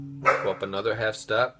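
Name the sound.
dog barking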